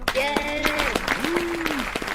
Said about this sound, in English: We're going to do one round of claps for everyone.